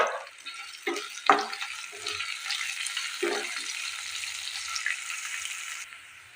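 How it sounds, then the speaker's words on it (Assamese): Onions and chana dal fry in a pan while being stirred for a paneer dish, making a steady moderate sizzle with intermittent scraping strokes of the spoon, close by and without talk. "পিঁয়াজখিনি অলপ ভালদৰে ভাজি লওঁ।"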